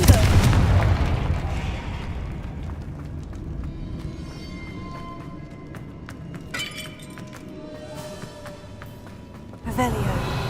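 A Confringo spell blast in Hogwarts Legacy opens with a loud fiery boom that trails into crackling, shattering debris, then a second burst hits near the end.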